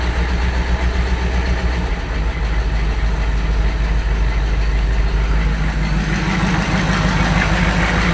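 An old 7800 combine's engine, started with no clutch and running on three-year-old gasoline, idles in a loud, steady, low rumble that continues unchanged and close by, with no voices.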